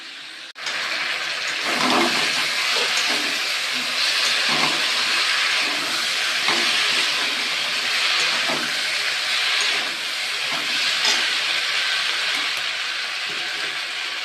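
Ginger and cumin paste hits a hot pan and sizzles in a loud, steady hiss that starts abruptly and continues throughout, with faint clinks now and then.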